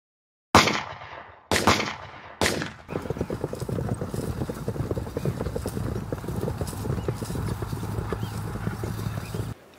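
Three loud, sharp gunshots open a Carrizal battle reenactment, followed by a continuous rumble of many horses galloping with cavalry hoofbeats close and busy over the field.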